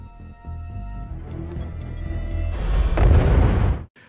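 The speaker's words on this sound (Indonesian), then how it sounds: "Don akan meledakkan bomnya dulu untuk menghabisi mereka" A bomb explosion in the action film Don 2 follows a sustained rumble. A heavy, loud, close blast swells near the end before cutting off abruptly.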